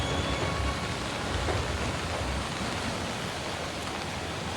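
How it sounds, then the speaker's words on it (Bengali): Heavy continuous city rain pours down in a dense, even broadband wash, loud and unbroken with no voices. "অয়ন, তুমি যেখানে রয়েছো, এই যে একটানা বৃষ্টি, জনজীবন স্বাভাবিকভাবেই ব্যাহত হয়েছে"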